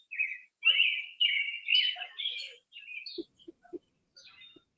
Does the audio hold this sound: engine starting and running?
no